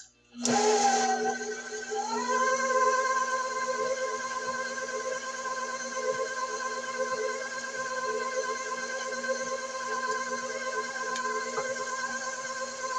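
Electric hand mixer running in second gear, beating eggs one at a time into cream cheese pound cake batter: a steady motor whine that starts abruptly, settles into a constant loud hum and continues without pause.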